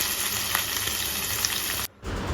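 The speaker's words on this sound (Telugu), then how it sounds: "తర్వాత పచ్చిమిర్చి వేసుకోవాలి" Green chillies fry in a pan of oil for chicken curry, giving a steady close sizzle that cuts off abruptly near the end before resuming faintly.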